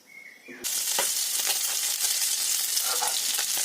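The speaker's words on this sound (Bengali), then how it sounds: "বাটা মাছগুলো ভাজা হয়ে গেল" Steady, loud sizzling of bata fish frying in hot oil, with crackles and pops throughout after a quiet start.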